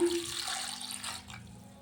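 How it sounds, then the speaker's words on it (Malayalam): Water is poured into a cooking pot for a sardine peera dish, a short, soft splashing stream that fades out after about a second and a half. "ഇതിനകത്തോട്ട് ആവശ്യത്തിനുള്ള വെള്ളം ഒഴിച്ച് നമുക്ക് ഇച്ചിരി അടുപ്പിലോട്ട് വെക്കാമേ"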